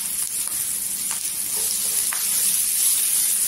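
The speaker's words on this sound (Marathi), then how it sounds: "छान अशी भेंडीला तेलामध्ये परतून घ्यायची, म्हणजे चिवटपणा येत नाही।" Okra sautéing in hot oil with turmeric powder for a garlic masala dish, a soft, continuous sizzle with a few faint stirring clicks. No one speaks.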